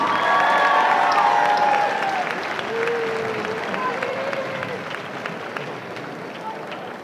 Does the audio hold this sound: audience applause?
yes